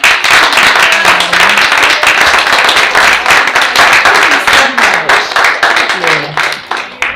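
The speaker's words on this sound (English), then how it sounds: "Let's give you a round of applause." Loud, close hand clapping from the audience at a school board of education meeting, a sustained round of applause that thins into separate claps toward the end, with some voices mixed in.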